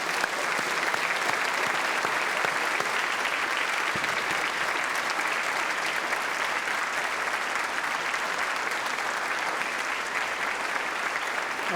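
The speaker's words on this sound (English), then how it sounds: "Please let us all applaud them as well for all that they've contributed." A graduation ceremony audience claps in sustained, dense applause, loud and steady throughout, filling the hall without a break.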